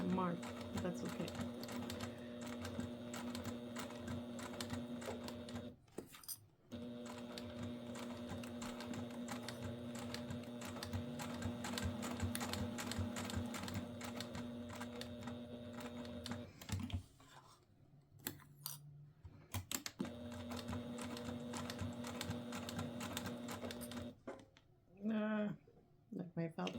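Sewing machine stitching felt for a tissue holder, a fast, close mechanical clatter running in long stretches with brief stops and restarts, and a voice talking over it.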